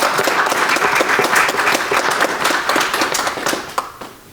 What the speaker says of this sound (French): je pense que ça mérite une bonne main d'applaudissement